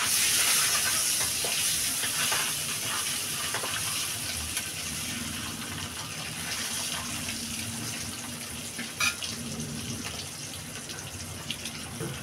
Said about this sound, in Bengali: ডিমটা বেশি লাল করে ভাজবো না,